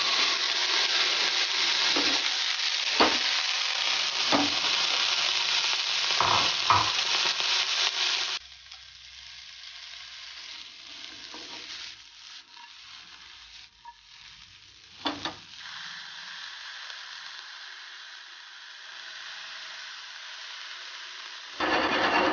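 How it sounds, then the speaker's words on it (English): Broccoli florets sautéing in a little oil, a steady loud sizzle with stirring scrapes for several seconds before the frying drops to a quieter bubbling hiss with occasional clatters; no talking. "first we'll saute our broccoli florets with little oil."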